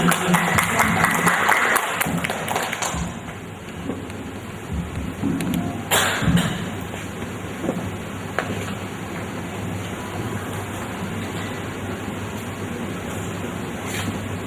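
An audience claps for speaker Manahan Ali at a religious debate, a dense burst of applause for the first few seconds that quickly thins to scattered claps and room murmur.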